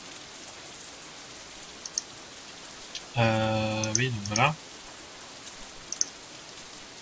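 Steady rain falling in the visual novel Katawa Shoujo, a soft even hiss running throughout, briefly overlapped by a short spoken phrase in the middle.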